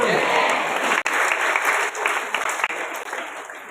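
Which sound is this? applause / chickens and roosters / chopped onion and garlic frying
applause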